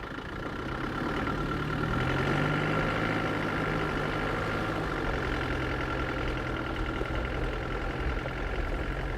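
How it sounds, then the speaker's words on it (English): A car engine idling steadily in the Ultimate Hunting video game, a continuous low rumble with a faint pitch shift early on, close and unbroken, with no talking over it. "this car sound needs to go"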